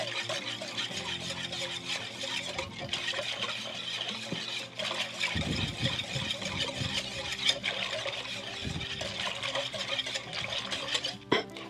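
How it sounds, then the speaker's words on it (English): A whisk swishes and clicks through a wet batter of cornmeal and milk for spoonbread, a soft continuous liquid stirring with a clinking bowl, close and steady. "I'm just going to get a whisk and just kind of make sure it's really well"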